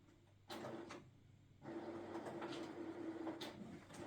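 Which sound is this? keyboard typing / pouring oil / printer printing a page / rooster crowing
printer printing a page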